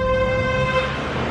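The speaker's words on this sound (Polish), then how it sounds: "Długo trąbisz." Car horn honking on a street, one long sustained toot held steadily for over a second, fairly loud and near, with faint traffic noise beneath.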